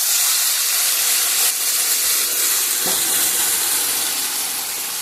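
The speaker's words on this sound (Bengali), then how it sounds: "গামলাটা দিয়ে অল্প জল দিয়ে দিলাম।" A little water goes into a hot cooking pot of mixed fish and vegetables, setting off a loud, steady steaming hiss and sizzle that fills the whole stretch, with a faint clink partway through.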